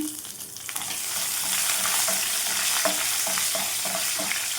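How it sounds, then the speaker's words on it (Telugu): Green chillies frying in a pan for a bitter gourd curry, a loud, continuous close sizzle building after a quieter start, with rhythmic stirring scrapes on top and no talk. "కొద్దిగా ఫ్రై అయిన తర్వాత పచ్చిమిర్చి వేసుకుందామండి"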